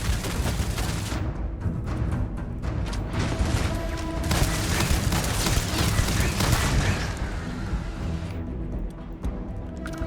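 Sustained automatic fire in the Starfield video game aimed at a turret: loud, dense rattling bursts with booming impacts that go on for most of the stretch, then thin out near the end.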